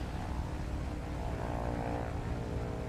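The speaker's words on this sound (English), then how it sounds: "Another good takeoff from Tom." A simulated propeller airplane taking off during a short takeoff and landing competition in Microsoft Flight Simulator, its engine droning steadily and loudly throughout with no one speaking.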